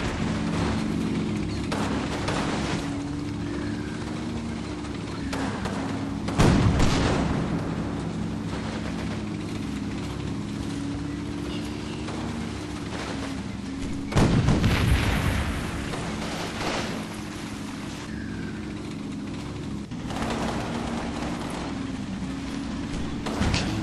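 Battlefield gunfire and heavy booming shots in the wargame Combat Mission, two loud impacts standing out against a steady backdrop of distant rattling fire and rumble.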